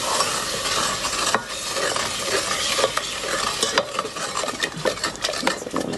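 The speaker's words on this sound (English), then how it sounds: "So I'm going to slowly add 130 ml of double cream, stirring all the time." Double cream being stirred into a hot melted butter mixture for Florentines, brisk, continuous scraping and swishing of a utensil against the pan with a bubbling sizzle underneath. Close and busy, with no voices.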